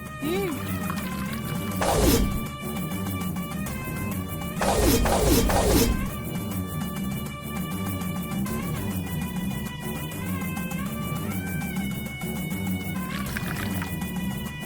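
Water from a vessel is poured into a small oil lamp in two short splashing bursts, set against background music and a faint voice.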